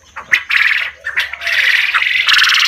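A male quail crows loudly and close by, giving a series of harsh, raspy calls in quick succession.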